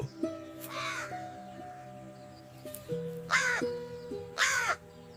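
A crow caws three times, loud and close, the harsh calls spaced apart over soft sustained background music.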